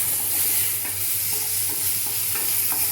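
Steady sizzling of onions frying in hot oil, with light scraping and stirring clicks throughout, continuous and fairly loud.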